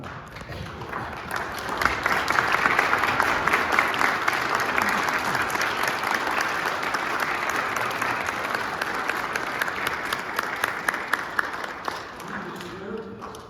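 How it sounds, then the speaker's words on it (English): A church congregation applauds its Sunday school teachers and students: dense, sustained clapping from a large crowd builds within two seconds and holds steady before tapering near the end, with voices mixed in. "I want the rest of you to get up and applaud them."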